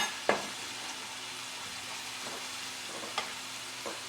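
Diced onions frying over low heat in a pan for a spicy shrimp and tomato sauce, giving a steady, soft sizzle with a few brief clinks of a utensil against the pan.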